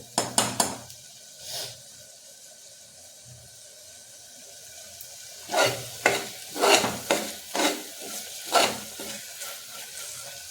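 Masala paste for rajma frying in oil in a pan, stirred with a utensil: a burst of scraping clinks at the start, a quieter sizzle, then a run of rhythmic metal scrapes against the pan.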